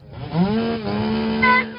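A chainsaw rises in pitch and runs at a steady droning rev, heard close and loud for a moment during a roadside traffic dispute.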